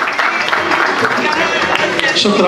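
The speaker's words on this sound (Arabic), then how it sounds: "تحت تصفيقات الجمهور" Audience applause at the closing ceremony of a Moroccan ornithological federation event: a steady wash of clapping from a crowd fills the hall while someone speaks over it.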